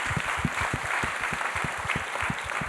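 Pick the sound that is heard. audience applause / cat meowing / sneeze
audience applause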